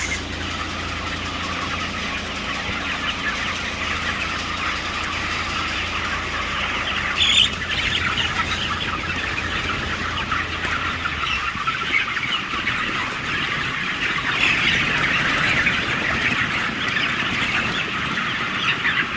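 Broiler chickens 27 days old on a farm in Taiwan cluck and murmur as a continuous flock din, with a steady mechanical hum beneath, fairly loud and with no speech.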